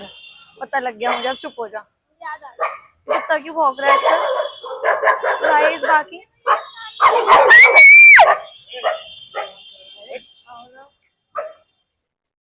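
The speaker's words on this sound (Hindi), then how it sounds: "कुत्ता क्यों भौंक रहा है" A dog barks in repeated sharp bursts close by, mixed with excited talking and shouting from several people, one high yelp-like cry rising above the rest.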